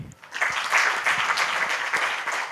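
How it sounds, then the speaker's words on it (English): An audience at a university entrepreneurship pitch day in Kigali breaks into a sustained round of applause, dense clapping that rises quickly and holds steady, with a faint voice briefly at the very start. "A round of applause for all of them."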